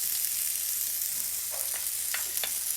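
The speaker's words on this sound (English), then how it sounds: "chives, and sweet pepper and allow them to saute along with the onions for another minute" Onions, chives and sweet pepper sauteing in a pan for a tofu stir fry, giving a steady soft sizzle throughout with a few faint clinks of utensils near the end.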